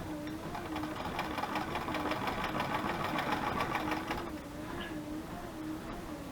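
A sewing machine stitches at close range with a steady, rhythmic mechanical whir and fast needle clatter that eases slightly near the end.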